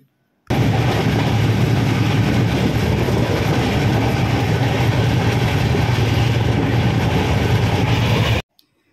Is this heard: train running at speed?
yes